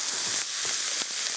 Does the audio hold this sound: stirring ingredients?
yes